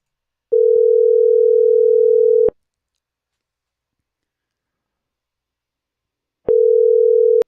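A steady telephone tone from an outgoing call plays loudly for about two seconds, cuts to silence for several seconds, then starts again; no voices.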